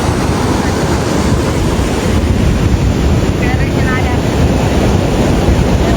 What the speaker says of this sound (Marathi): इकडे बघा तुम्ही, इकडचं समुद्र वगैरे, पाणी पण इकडचं स्वच्छ आहे. आरंबोळी बीच.